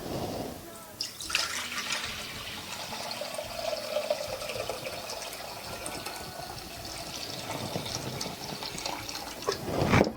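Liquid pours steadily into a 2-liter jar while kombucha is being made, a continuous close splashing rush that holds for about ten seconds.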